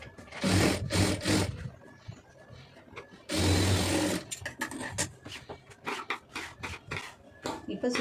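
A sewing machine stitches the lining of a blouse in two loud bursts of running, with quieter handling sounds and speech in between.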